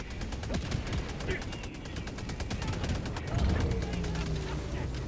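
Sustained gunfire from the video game Helldivers 2: rapid automatic bursts and scattered shots with a rumbling background and mechanical noise. The firing stays continuous and dense throughout.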